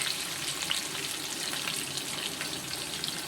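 Small chopped onions sautéing in hot oil with mustard seeds and fenugreek, a continuous bright close sizzle with light crackling spatters, steady in level throughout, no talking.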